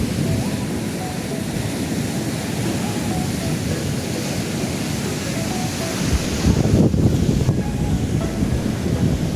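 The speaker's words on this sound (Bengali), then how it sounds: "অনেক বড় বড় ঢেউ আসতেছে গাইজ, দেখতেই পাচ্ছেন" Big sea waves roaring onto a shore, a loud continuous wash of surf buffeted by heavy wind noise on the microphone, with a stronger surge partway through.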